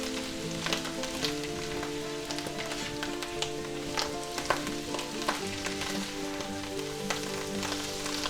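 Minced garlic and mushrooms sizzle in butter in a pan, a steady close frying hiss dotted with small crackles and pops, with no one speaking.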